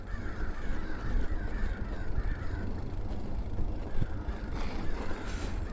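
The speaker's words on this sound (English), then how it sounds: "I was looking at those crows." Crows caw repeatedly in snowy Oregon countryside, a run of harsh rhythmic calls at moderate distance over steady outdoor rumble and wind-like noise.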